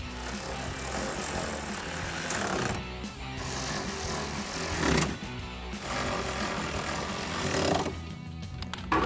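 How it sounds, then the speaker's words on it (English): Ratcheting and metallic clicking from a 5mm Allen socket tightening bolts on a Rough Country hard tri-fold tonneau cover for a 2022-2024 Toyota Tundra, busy and close, in bursts with short pauses between. "grab your 5mm Allen socket and tighten all of these down"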